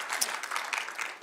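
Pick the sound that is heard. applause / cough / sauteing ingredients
applause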